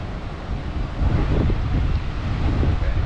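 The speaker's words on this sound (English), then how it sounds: "Jeez, those waves. They're huge." Large waves break and rush on a Florida beach, a steady loud roar of surf mixed with heavy wind buffeting the microphone, building stronger after the first second and holding without voices.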